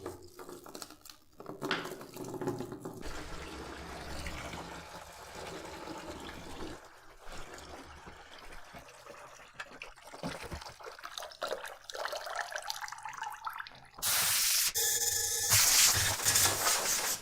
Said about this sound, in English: So we're gonna drain the fuel tank right now.